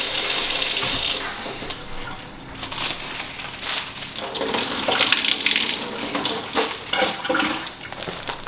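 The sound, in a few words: warm water running onto paper towel wipes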